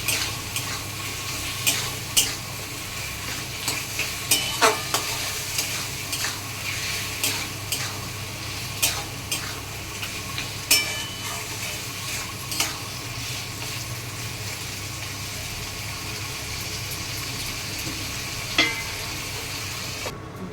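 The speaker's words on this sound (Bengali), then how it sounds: "এবার আমি ভালো করে কষিয়ে নিই।" Prawns and pointed gourd are stir-fried in a pan, releasing water. A loud, continuous sizzle runs throughout, with repeated sharp scraping and knocking stirring strokes.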